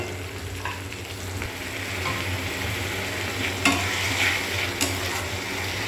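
Tomatoes fry in a pan with a steady low sizzle and occasional stirring scrapes, continuous and close, with no one talking.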